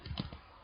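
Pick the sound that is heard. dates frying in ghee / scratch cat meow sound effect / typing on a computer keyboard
typing on a computer keyboard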